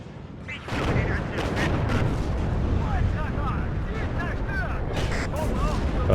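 Continuous heavy battle from WARNO, with rolling explosions, booms and gunfire piling up at close range after a quieter opening second, while someone talks over it.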